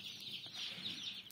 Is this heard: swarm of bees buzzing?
no